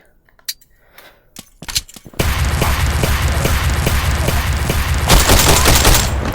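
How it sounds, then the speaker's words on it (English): A nine-bang flashbang grenade goes off during a room-breaching drill, with a few sharp scattered pops first and then a sustained, loud burst of rapid bangs to the end. "I'm gonna throw 9-bang"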